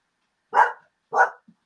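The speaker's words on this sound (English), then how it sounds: "That's a small dog." A small dog gives two sharp, close barks about half a second apart in an otherwise quiet moment, followed by a tiny faint yip.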